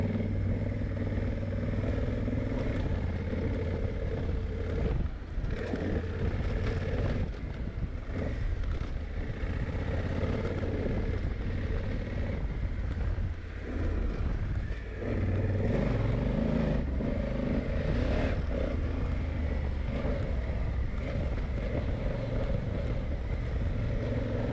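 A Honda Africa Twin DCT motorcycle descends an off-road hill, its engine droning steadily with shifts in pitch under constant clatter and rattling from the rough ground.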